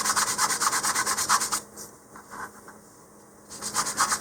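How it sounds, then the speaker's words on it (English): Steady rhythmic rasping of 150-grit sandpaper on wooden model rocket parts, close up, in quick back-and-forth strokes along the grain that pause briefly midway before resuming. "give these just a little more sanding with the 150 grit here on the faces"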